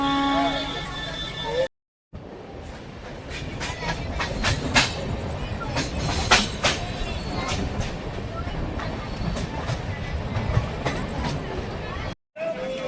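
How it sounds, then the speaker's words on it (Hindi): The 22816 Ernakulam–Bilaspur Superfast train starts pulling away near Durg, a steady rumble of rolling cars with rapid clickety-clack of wheels over rail joints under a bright chorus of squeals and clanks, continuous and close. "काफ़ी देर से आउटर में रोक के रखा था, अभी हॉकिंग हो रही है, अब छूटेगा।"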